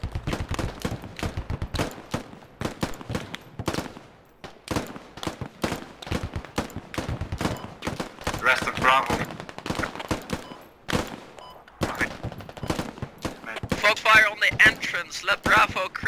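Heavy gunfire in a combat video game set on the outskirts of Talil: dense, rapid volleys of shots and bursts crackle continuously, with voices calling out under and between the shooting.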